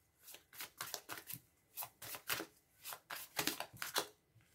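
Tarot cards being cut and shuffled by hand, a quick run of crisp papery riffles and snaps in irregular bursts, close and fairly quiet with no talk.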